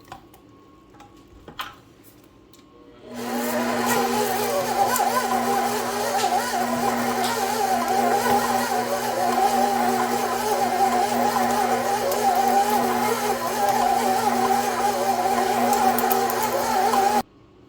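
A stand mixer churns thick monster cookie dough with chocolate chips and M&Ms, a steady loud motor whir and rhythmic ticking that starts abruptly after a quiet moment and cuts off at the end.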